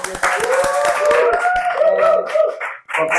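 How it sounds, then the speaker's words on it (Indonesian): Studio audience clapping for a guest on a talk show, a short mixed patter of hands with a voice cutting in partway and a brief gap before the clapping resumes. "Boleh kasih tepuk tangan guys"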